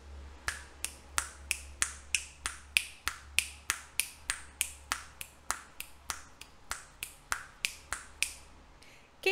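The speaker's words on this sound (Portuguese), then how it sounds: "Agora, estalos dos dedos." About twenty crisp finger snaps in a steady, even rhythm, close and fairly loud, with no talking and a low steady hum beneath.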